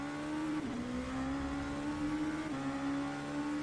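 A 600-horsepower 4.2-litre V8 Legia LMP2 race car in the rFactor 2 game, a steady buzzing engine drone held at high revs with a slight pitch dip and a shift-like step, continuous and without voices.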